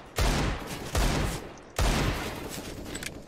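Three loud gunshots from Counter-Strike competitive play ring out at uneven intervals, each with a sharp crack and a trailing echo.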